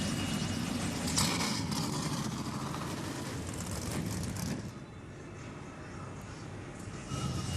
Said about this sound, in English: And just like that, the trucks are fired.